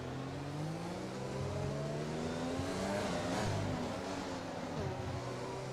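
Pickup truck engine in a racing video game on a Mexico circuit, a steady continuous drone with shifting tones that rise and fall, holding at a constant moderate level throughout.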